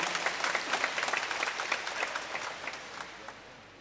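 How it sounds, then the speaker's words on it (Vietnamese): A church congregation breaks into warm, dense applause during a New Year Marian feast-day Mass, many hands clapping together before gradually fading out. "Xin cho một tràng pháo tay để chúng ta chúc mừng nhau."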